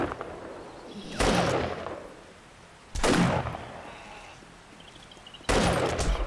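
Three loud gunshots ring out in the 7 Days to Die video game, evenly spaced about two seconds apart, each a sharp broadband crack with a reverberant tail over a low ambient background.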